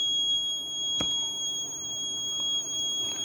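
A theft-alert alarm from a fingerprint-based biometric security system with keypad and GSM module sounds as a steady, continuous high electronic tone over a low hum, with a few faint clicks.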